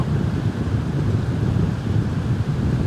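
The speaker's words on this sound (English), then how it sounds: "let this wind die down" Steady wind buffets the microphone with a low, continuous rumble and no letup.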